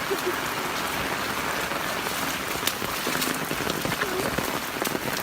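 Steady rain pattering on surfaces beside floodwater, a constant dense hiss with scattered drops, continuing evenly throughout with no speech.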